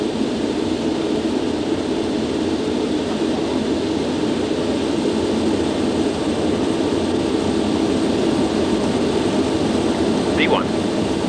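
Concorde's jet engines roar at take-off power as heard from inside the cockpit, a dense, continuous, loud rumble and hiss that holds steady throughout while crew voices call out over it.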